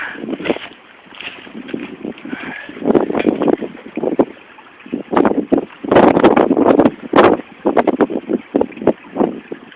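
Gusty outdoor wind buffets the microphone during gold prospecting, coming in loud, uneven rushes and bursts with short lulls between them.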